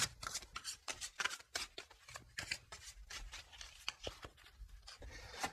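Oracle cards are shuffled and drawn, giving a close, steady run of riffling and sliding card noises with soft slaps and rubs.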